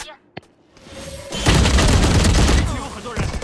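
Gunfire rings out in the mobile shooter Valorant Mobile: a single sharp shot, then a dense, loud burst of rapid fire lasting about two seconds before tapering off.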